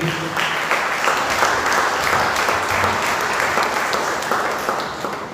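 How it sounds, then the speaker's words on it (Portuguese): A congregation at an evening church service welcomes the pastor with steady, dense applause that holds at a full, even level throughout, with no talk over it. "Recebemos o pastor com palmas nessa noite."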